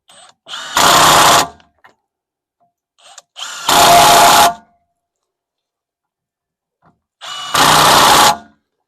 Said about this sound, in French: un coup de serrage avec la Milwaukee